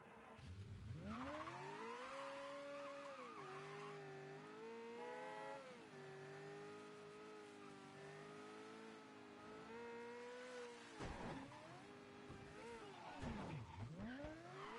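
Car in Mafia 3 pulling up, with a loud engine revving and shifting pitch throughout, tires squealing briefly near the end as it stops, no talk.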